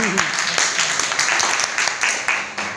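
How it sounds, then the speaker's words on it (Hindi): An audience at a training session claps loudly, dense overlapping hand claps with sharp individual slaps continuing throughout, with a voice briefly heard under the applause. "अब जोरदार तालियां धीमी धीमी तालियां नहीं जोरदार"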